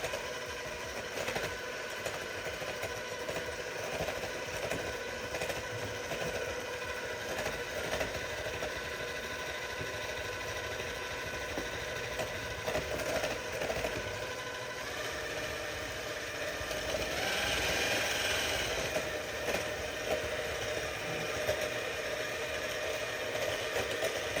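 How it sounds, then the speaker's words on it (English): An electric mixer runs at medium speed blending chocolate chip cookie dough ingredients, a steady motor hum with a faint rattling vibration that holds for a long stretch, briefly getting louder and brighter partway through, with no talking. "continue to mix on a medium speed until all the ingredients are well mixed"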